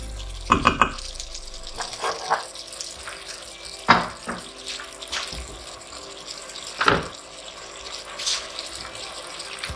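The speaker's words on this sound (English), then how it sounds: "Now I'm gonna put the water." Water runs and splashes intermittently into a cooking pot of beef and vegetables, with several louder clattering bursts and drips between quieter stretches of trickling.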